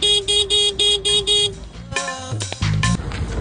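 A vehicle horn honks five times in quick, even beeps, followed by a few more uneven blasts and honks nearby.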